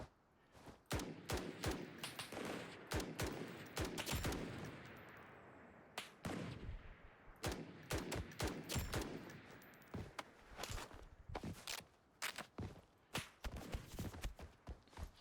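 Gunfire in a Roblox first-person shooter game, sharp loud shots fired in quick bursts and rapid strings, with brief gaps and a rumbling background between volleys.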